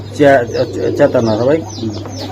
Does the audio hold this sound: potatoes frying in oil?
no